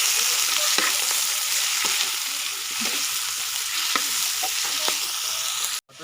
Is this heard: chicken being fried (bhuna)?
yes